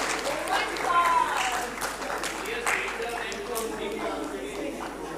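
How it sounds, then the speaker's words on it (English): Audience applause at an event, a moderate round of clapping mixed with crowd voices and talk layered over it, fairly steady across the stretch. "A big round of applause for us because she has won it twice"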